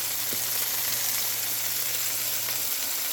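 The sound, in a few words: chicken thighs sautéing with onions in garlic oil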